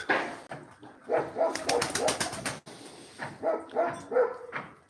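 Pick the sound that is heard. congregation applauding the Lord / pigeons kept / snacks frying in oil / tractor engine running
pigeons kept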